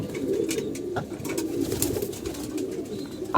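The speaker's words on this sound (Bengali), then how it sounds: "এই ম্যাক্সিমাম কবুতরগুলো দেখেন রোদ খেতে আছে" A flock of pigeons resting in the sun coo in a low, continuous murmur, close by and fairly soft, with a few faint bird chirps mixed in.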